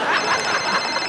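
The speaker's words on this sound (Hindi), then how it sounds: "ये मेरा फोन बज रहा है" A mobile phone rings on a comedy stage, a bright repeating ringtone that is fairly loud and continuous across the short span, with no talk over it.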